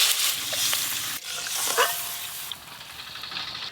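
Water hits a hot pan of sizzling spices for radish tok, a loud frying hiss and bubbling sputter that rises, dips briefly and continues steadily, with no talking.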